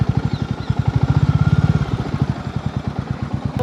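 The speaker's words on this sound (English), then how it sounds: "This is the tube well in action." A tube well pump engine runs steadily in a rural village, giving a rapid, even chugging beat that stays loud and close throughout, with no talk over it.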